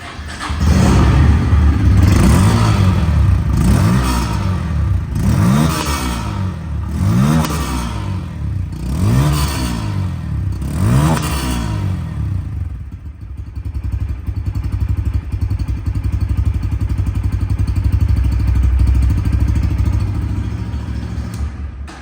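A Bajaj Pulsar N160 ABS motorcycle engine, loud and close, revved in a regular series of about six rising throttle blips, then settling into a steady idle with no talk.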